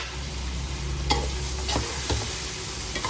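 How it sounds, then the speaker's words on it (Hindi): Chicken frying with tomatoes in a pan, stirred with a spoon: a continuous close sizzle with a few sharp scraping clicks of the spoon against the pan. "चिकन को भी अच्छे से भून लेंगे।"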